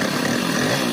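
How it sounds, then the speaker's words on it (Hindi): A Hero Splendor Plus motorcycle engine running after a tappet adjustment, heard close up as a loud, steady, rough buzzing idle with no break. "तो हमारा जो मैग्नेट कवर था वो भी टाइट हो गया है और अपनी बाइक को स्टार्ट कर लेंगे हम।"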